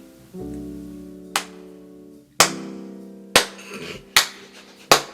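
Slow, awkward clapping by a few auditioners, five sharp separate claps spaced about a second apart over a quiet droning background, with no talking.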